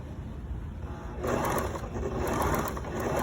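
A sewing machine runs close by at a steady hum while edge stitching a fabric seam on a face covering, its motor picking up speed partway through and continuing as a dense, even whir.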